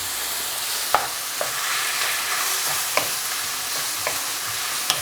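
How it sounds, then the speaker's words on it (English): Chicken sears in a very hot pan and is stirred about, producing a constant, close, hissing sizzle punctuated by occasional sharp spatula knocks against the pan; no voices. "Get it all mixed, and maybe try to sear the other side too as much as you can."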